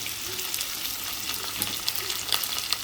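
Onions and garlic frying in spiced oil for a fish peera dish: a steady close hiss of sizzling with a few soft spoon taps and scrapes, brief and without speech.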